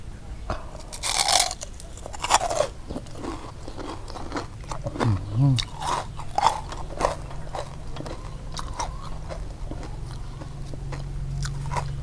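Crispy pork being bitten and chewed with sharp, repeated close crunches spaced through the meal, mixed with occasional talk.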